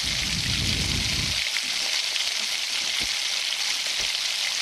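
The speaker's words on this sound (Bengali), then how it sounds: "ধনে গুঁড়ো আর কাশ্মীরি লঙ্কা গুঁড়ো দিয়ে এবার আমি কষতে থাকবো" Steady bright sizzle of fish, potato and ground spices (turmeric, cumin, coriander, Kashmiri chilli) frying in a pan, with a low bubbling rumble in the first second and a few soft stirring knocks.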